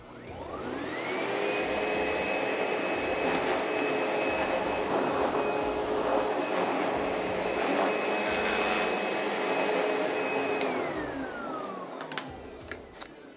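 A SEBO Automatic X8 upright vacuum cleaner motor spins up with a rising whine, holds a loud steady roar for about ten seconds, then winds down, close by with a few clicks at the end.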